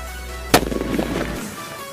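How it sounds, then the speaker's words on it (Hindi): Cell bomb firecracker lit on a mound of sand during Diwali bursts with one sharp, loud crack, followed by a brief crackling rumble that fades within about a second. "तो गाइस हम ये सेल बम जला के आ रहे हैं"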